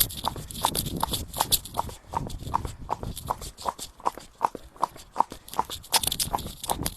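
A horse walks along a path on a countryside trail ride, its hooves clip-clopping in a steady even rhythm. Close and continuous, with some rustling movement and no speech.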